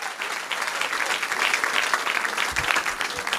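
Church congregation applauding, a dense sustained burst of clapping that fills the space for a few seconds.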